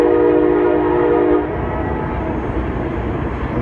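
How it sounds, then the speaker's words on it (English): A train rolls past on the track right outside a hotel in downtown Cordele, Georgia. Its horn blares loudly for about a second and a half, then the steady rumble of rail cars carries on. "So I guess there's a train track right outside the hotel right here."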